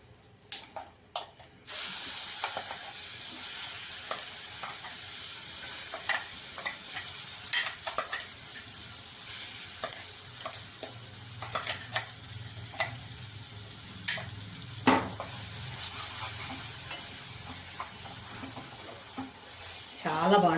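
Hot tempering sizzles steadily as it is stirred into a dried red chili and fresh coconut chutney, with scattered spoon scrapes and clicks over a continuous frying hiss after a brief clattering start.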